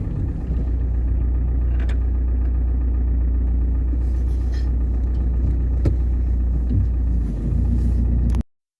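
A car drives along, heard from inside the cabin as a steady low road rumble and engine drone, with a few faint clicks and knocks, before cutting off abruptly.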